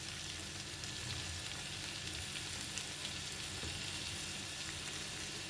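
Tomatoes hit a hot pan while cooking a bachalikura and moong dal curry, giving a steady, dense sizzle and fry that holds evenly throughout at moderate level with no voices.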